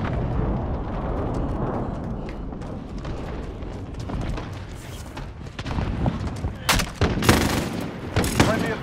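Explosions from an allied cluster strike in Call of Duty Warzone, a low rumbling barrage of booms and scattered gunfire that swells into sharper cracking blasts toward the end, with some voice mixed in.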